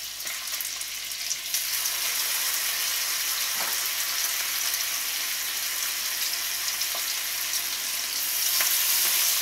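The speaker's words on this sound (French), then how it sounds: "Je vais sauter cette viande" Floured beef sautéing in a hot pan gives a loud, steady, close sizzle that holds without a break, with a few soft clicks as the meat shifts.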